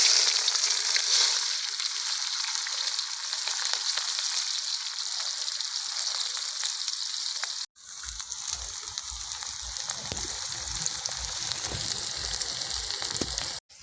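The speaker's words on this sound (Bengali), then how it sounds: "পেঁয়াজটা আমাদের লাল লাল করে ভাজা হয়ে গেছে" Chopped onion fries in oil in a pan with a dense, steady sizzle, close and loud, broken by a brief gap partway through, then a coarser crackling fry with scattered stirring clatter.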